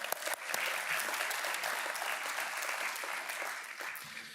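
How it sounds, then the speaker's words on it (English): An audience claps steadily for several seconds, a dense burst of applause that starts abruptly and slowly tapers. "Give them a round of applause as well."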